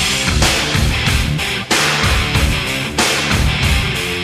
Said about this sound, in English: This was that early 90s kind of funk metal